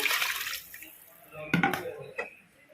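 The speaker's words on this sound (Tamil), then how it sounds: "ஞாபகமாக இந்த மாதிரி ஊற்றிக்குங்க தண்ணி நான் ஊற்றி" Two tumblers of water splash and pour into a metal pot for tomato rice, with clanks of cookware in a short burst amid quiet kitchen background.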